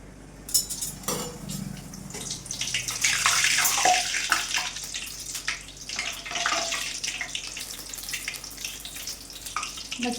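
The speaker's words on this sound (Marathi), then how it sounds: "आता आपण तळून बघूया." Sweet banana puris sizzle in hot oil, a dense steady crackle and hiss with brief clinks of a utensil against the pan, close and continuous with no talk.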